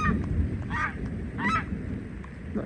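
Geese honking in a rural garden, a few separate nasal honks in an uneven rhythm over a steady background hum, moderately close but fairly quiet.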